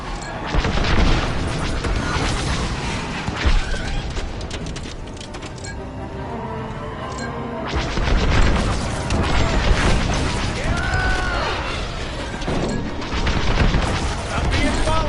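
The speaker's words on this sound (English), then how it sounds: "Then we better get rid of those ties. Fire missiles!" Missiles fired at TIE fighters during a space dogfight in the PS5 game Star Wars: Squadrons, with loud booms and crashing blasts layered over dense engine roar and battle noise for the whole stretch, with voices talking over the action.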